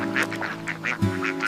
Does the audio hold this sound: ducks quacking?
yes